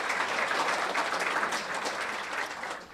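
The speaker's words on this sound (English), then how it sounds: "Let's give another round of applause for Rose Randazzo." An audience at an awards event claps in a dense, steady round of applause that fades slightly toward the end, with no voices over it.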